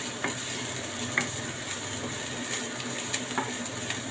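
Onion and garlic sauté in a pan for beef with broccoli, a soft, steady sizzle with a few light clinks and stirring taps, fairly quiet and without talk.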